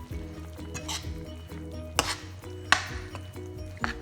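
Spices being mixed into a green chilli curry in a pan, with soft scraping stir strokes and a few sharper clinks of a utensil against the pot under a steady low kitchen hum.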